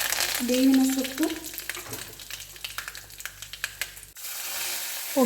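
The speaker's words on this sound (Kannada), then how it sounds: "ಒಗ್ಗರಣೆ ಸಿಡಿದಿದೆ" Garlic, mustard seeds and urad dal spluttering in plenty of hot oil for a tempering, with close, dense crackles and sharp pops throughout. A voice speaks briefly at the start.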